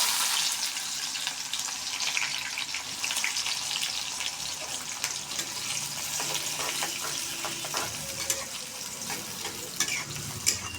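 Chopped onions fry in hot oil with whole cumin seeds in a pan, giving a steady, close crackling sizzle with occasional stirring scrapes throughout, no voices.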